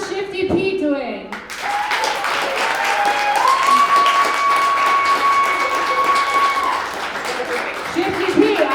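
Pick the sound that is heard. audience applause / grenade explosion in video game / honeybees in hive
audience applause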